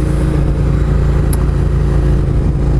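A motorcycle on an adventure ride sends out a loud, steady engine drone while travelling down the road, mixed with a constant rush of wind noise and no pauses.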